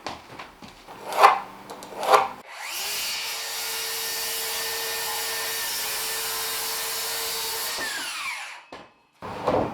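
A power saw cuts an inch off a wooden piece in one steady, loud whirring pass of about five seconds, preceded by a couple of sharp knocks and ending with a short drop to silence.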